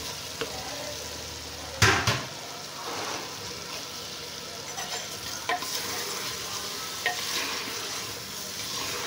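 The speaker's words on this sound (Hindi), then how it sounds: "अब इसमें जाएगा आलू और बैंगन।" Potatoes and eggplant sizzle and fry in spiced oil in a pan while being stirred, a steady crackling hiss with occasional clacks and scrapes of the spoon, close and alone without talk.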